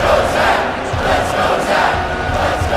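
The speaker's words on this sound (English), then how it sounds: "And the big house starts chanting." A huge stadium crowd at Michigan Stadium, the Big House, chants during a college football game, a dense steady roar of voices filling the whole moment from a distance.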